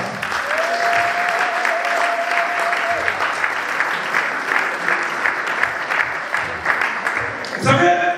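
Church congregation breaking into sustained applause in acclamation, a dense steady clapping from a crowd lasting several seconds, with voices calling out beneath it.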